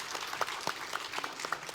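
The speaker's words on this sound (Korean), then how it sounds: "한 분씩 소개해드릴 때 큰 박수로 함께 해주시면 감사드리겠습니다." An audience claps as panelists are welcomed one by one at a Daegu education talk concert, a modest scattering of hand claps at moderate distance, fairly light and uneven over a soft room background.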